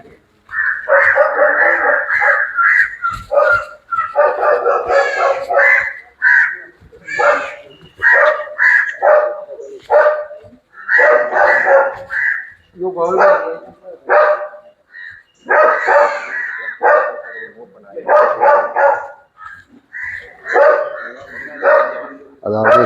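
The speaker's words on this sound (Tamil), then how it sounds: "இந்த மோப்ப நாய்கள் பகுதிக்குத்தான் நான் இப்போ வந்திருக்கிறேன்" Police sniffer dogs in kennels at a station in Kopay bark loudly and repeatedly, near and energetic, in overlapping bursts with short pauses and some yips and whimpers mixed in.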